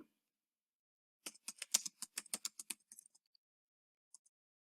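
Keys clatter on a computer keyboard in a quick burst of about a dozen crisp clicks, followed by a couple of isolated taps in an otherwise quiet setting.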